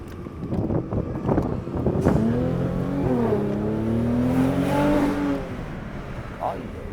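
A turbocharged car with a modified downpipe revs up and holds a rising, wavering engine note for a few seconds, loud and close, with people talking around it.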